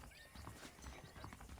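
Horse in the Red Dead Redemption video game, giving faint clip-clopping hooves and a whinny over a soft game ambience.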